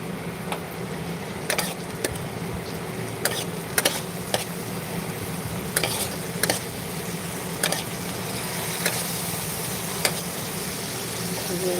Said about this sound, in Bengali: আর একটুখানি জল দিয়ে দিচ্ছি জল দিয়ে আরও ভালোভাবে কষিয়ে নেবো